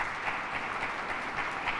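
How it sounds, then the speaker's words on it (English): Applause rises at a public safety press conference held by a governor, a steady, fairly soft patter of many hands clapping somewhat at a distance. "Let's give a round of applause for"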